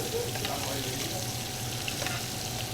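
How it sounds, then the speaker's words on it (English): Pork belly fries in melted butter while being basted for confit, giving a steady, close, crackling sizzle that holds evenly throughout with light spoon-and-liquid movement underneath. "at this point, I'm going to start basting it"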